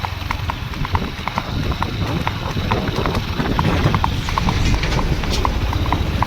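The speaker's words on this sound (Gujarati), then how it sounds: "આ છે તમારા ફાર્મની શક્તિ સ્ટડ ફાર્મની પૂનમ ઘોડી" Rhythmic hooves of a mare clip-clop steadily on a hard surface at a stud farm, close and loud, with occasional voices faintly in the background.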